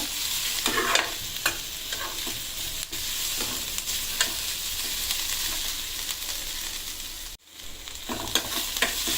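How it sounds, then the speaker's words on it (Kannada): Curry leaves fry in oil in a pan for a chicken curry, making a close, continuous sizzle with scattered crackles and a brief drop-out near the end. "ಇದಕ್ಕೆ ನಾವು ಸ್ವಲ್ಪ ಕರಿಬೇವು ಹಾಕೊಂಡು ಫ್ರೈ ಮಾಡೋಣ."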